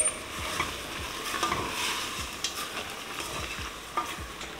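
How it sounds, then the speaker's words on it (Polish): Goulash meat with allspice, pepper, salt and granulated garlic is stirred in a pressure-cooker pot, with a soft sizzle under repeated scraping and clinking strokes of the spoon, close and moderately loud, no voices. "Całość mieszamy."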